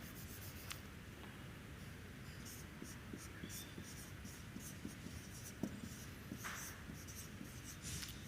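A pen scratches across paper while a physics problem on Coulomb's law is worked out, soft and close, in short irregular strokes under quiet talk.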